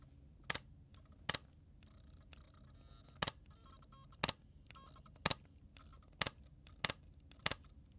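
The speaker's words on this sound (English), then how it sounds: "This is the mechanical shutter." Sony A1 mirrorless camera firing its mechanical shutter. Eight quiet, crisp clicks come at an irregular pace, some single and some in quick pairs, close-up against a soft, near-silent room.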